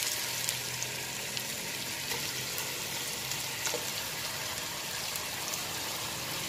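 Onion, potatoes and chicken fry together in a pan with a continuous soft hiss and sizzle, fairly quiet and even throughout, with nobody speaking.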